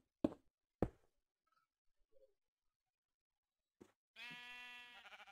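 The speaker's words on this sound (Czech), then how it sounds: "A už slyším ovce, to už je někde kousek." Sheep bleating in Minecraft: one clear, harmonic bleat near the end, loud and close, after a few sharp isolated clicks and thumps and a faint short tone, with no talk.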